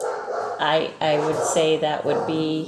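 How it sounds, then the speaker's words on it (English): Dogs in the room bark and yip in several quick bursts, loud and close, over someone talking. "sorry about my dogs."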